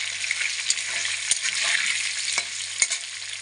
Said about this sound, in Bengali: লবণ দিয়ে একটু আলুটারে লাল লাল করে ভেজে নেব।